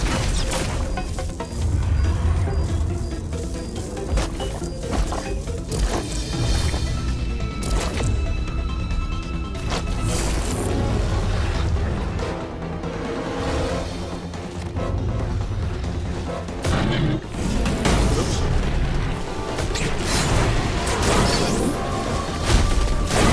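Continuous loud game combat from Metroid Dread, with dense mechanical clanks, crashes and booming blasts layered over a busy soundtrack for the whole stretch, no talk.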